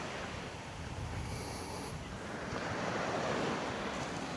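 Wind and surf roll steadily at a beach in Myola, NSW, Australia, a broad constant wash of waves with breezy gusts buffeting the microphone, swelling slightly toward the end.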